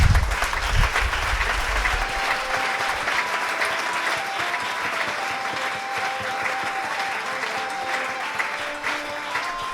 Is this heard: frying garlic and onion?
no